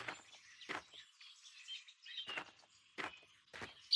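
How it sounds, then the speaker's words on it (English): Cartoon birds chirp in a garden, a few short bright tweets spaced apart over quiet background, fairly soft and alone. "Let's chirp like those birds."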